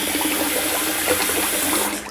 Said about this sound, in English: I'm going to add some more water in here